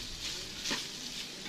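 Sausage and eggs fry in a pan for a creamy breakfast scramble, a faint, steady crackling sizzle with a brief soft stir in the middle, quiet and close with no talking.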